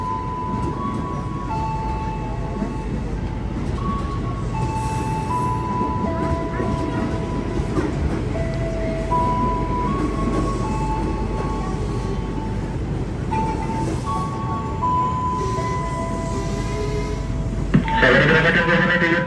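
A KAI commuter train bound for Depok departs from platform 2 with a steady rumble and wheel noise, while a public-address announcement plays over the station.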